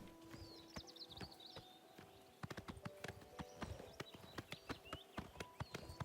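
Hoofbeats of a horse in Oblivion Remastered, starting as sparse clops and settling into a brisk, regular clip-clop rhythm that grows slightly louder, with quiet game ambience behind.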